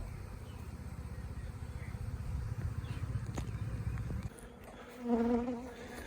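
A swarm of honeybees drones around a hive box outdoors, a close, steady buzzing hum that fades a little near the end as a soft voice briefly comes through.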